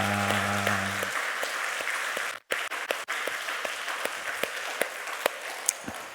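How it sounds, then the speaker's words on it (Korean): Church congregation applause during a Sunday worship service at Gyulhyeon Church, with a brief held tone at the start and then a steady wash of clapping. It dips for a moment midway, then carries on evenly with a few sharper claps standing out. "우리 박수 한번 크게 하도록 하겠습니다."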